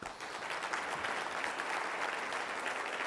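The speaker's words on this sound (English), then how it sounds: "If we can get a round of applause for them quick." Steady, dense applause from a conference audience for the event's corporate sponsors, a uniform wash of many hands clapping continuously at moderate distance with no talk over it.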